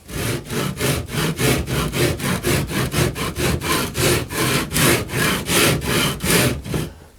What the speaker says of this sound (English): this thing cuts the cork very well and gives you a nice finish here